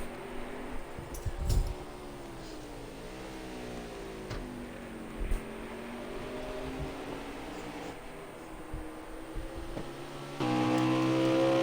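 Stock cars racing the final lap at Road America in an Xbox racing game: a steady engine whine rising and falling through gear changes, with a louder, brighter engine tone near the end.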